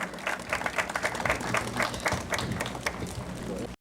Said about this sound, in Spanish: Un aplauso para él, palmas para él.